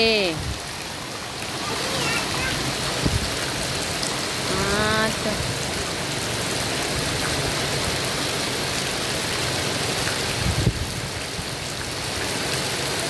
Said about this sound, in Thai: ฝนตกวันนี้